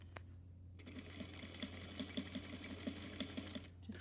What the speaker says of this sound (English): I'm gonna line up my seam to the inside of my presser foot, and my needle's gonna be sewing right next to it